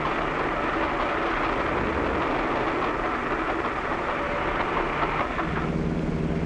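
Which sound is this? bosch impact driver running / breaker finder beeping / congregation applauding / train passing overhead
train passing overhead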